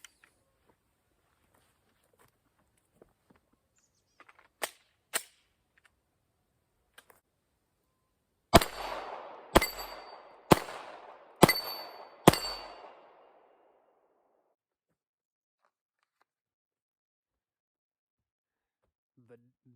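Five gunshots ring out in quick succession, each with a sharp metallic clang off steel target plates and a short decaying ring, preceded by two fainter earlier shots, outdoors at a shooting range.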